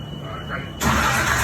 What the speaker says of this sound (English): Alright, crank it.